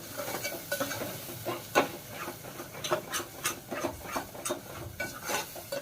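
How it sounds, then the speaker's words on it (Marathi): A ground masala paste is sautéed in oil in a pan: close, crackling sizzle with repeated scraping strokes of a spoon and light metallic clinks, no talking. "आता हे ना आपल्याला तेल सुटेपर्यंत चांगलं परतून घ्यायचं आहे"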